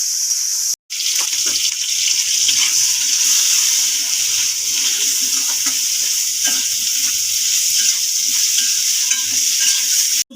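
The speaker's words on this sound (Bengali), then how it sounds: "চিংড়ি মাছটা দিয়ে ভেজে তুলে নেবো।" Shrimp fry in hot oil in a wok for a pointed gourd and shrimp dish. A loud, steady sizzle runs for about ten seconds and cuts out briefly near the start and again at the end.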